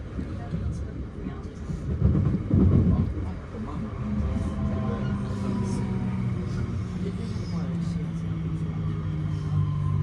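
Northern train slowing into Macclesfield station, heard from inside the carriage as a steady low rumble with a rising brake whine and a brief louder clatter early on.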